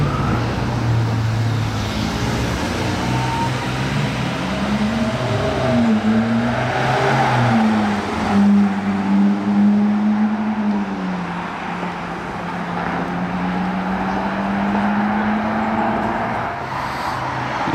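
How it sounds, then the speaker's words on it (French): A Ferrari Purosangue, the brand's four-seat V12 SUV, arrives nearby, its engine a steady low drone that rises and shifts in pitch as it approaches amid surrounding roadway noise. "Et il y a un Puro Sangue qui arrive au même moment"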